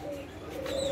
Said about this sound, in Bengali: এইখানে যে ছোট ঘুঘুগুলি রাখি সেই ঘুঘুগুলিও আমি বাইরেই রাখি